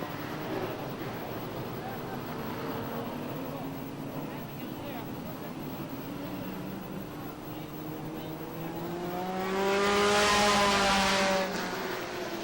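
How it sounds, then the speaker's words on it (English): During a 1993 Pro Stock 100-lap feature at Lee USA Speedway, the pace car leaves the track while race commentary continues. Engine drone builds into a loud passing roar near the end. "Pace car gets set to leave the racetrack."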